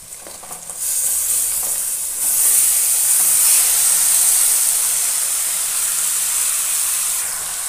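Marinated chicken with chili, salt, ginger and yogurt hitting a hot pan, a loud steady sizzle and hiss that swells after a moment and holds close and continuous.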